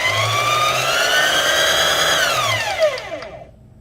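Sewing machine motor winding a bobbin with the foot pedal pressed, a loud, steady whirring whine that holds then slides down in pitch as it slows and stops, with no speech.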